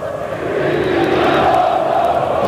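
Flamengo fans chant a taunt at Vasco supporters during the 2006 Copa do Brasil final, a loud, unified crowd chant rising quickly and holding as a dense roar in the stadium.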